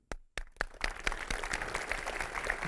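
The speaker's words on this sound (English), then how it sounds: "So I want to give a round of applause to everybody around you." A brief stretch of applause from an audience, starting with a few scattered claps and then settling into steady clapping.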